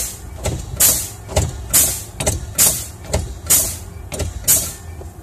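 Truck air brakes being pumped down during an in-cab inspection, with about eight sharp hissing air bursts in a steady rhythm roughly every half second over a low idling engine.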